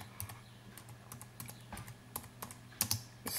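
Quiet, irregular clicks of typing on a computer keyboard, individual keystrokes tapping close by in uneven bursts with no talking.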